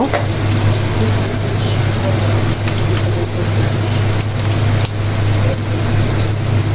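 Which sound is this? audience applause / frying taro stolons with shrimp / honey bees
frying taro stolons with shrimp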